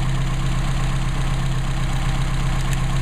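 A Mercedes 190SL engine with Solex carburetors idles steadily, a loud, close, continuous low rumble with an even pulse and a faint high whine above it, no voices.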